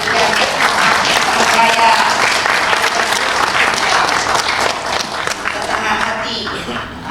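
A crowd at an Indonesian political gathering breaks into steady applause, a dense wash of clapping that carries on for several seconds while a voice speaks briefly over it.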